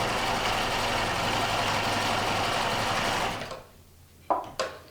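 A sewing machine stitches a quillo with a loud, steady motor whir for about three seconds. It then stops abruptly, and two short clicks follow in the near silence.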